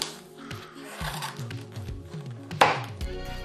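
Several short snipping and chopping cuts while material for an insect-style fishing lure is trimmed by hand, close and crisp, with one louder sharp snap partway through and fainter clicks around it.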